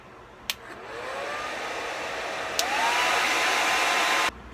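A Hot Tools Signature Series hair dryer with two speed settings blows steadily up close, clicks up to a louder, higher speed partway through, then switches off with a click.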